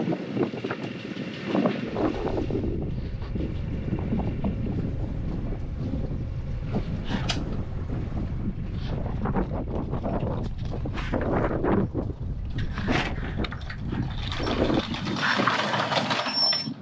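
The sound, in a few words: catamaran anchor being raised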